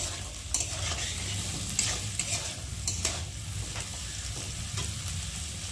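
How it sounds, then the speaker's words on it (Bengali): Peas and mixed vegetables for fried rice frying in white oil with cashews and raisins, a continuous close sizzle broken by repeated stirring scrapes and clicks of a utensil against the pan, with no speech. "সব সবজিগুলো সুন্দরভাবে ভেজে নেব।"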